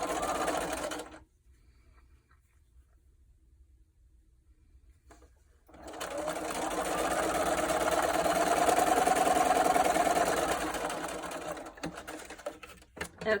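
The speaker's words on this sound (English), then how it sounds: "I'm going to bring my machine in and go ahead and sew those." A sewing machine stitches quilt block pieces in two runs: a brief burst, a few seconds of near-quiet, then a long steady whirring run that stops before scattered handling noises.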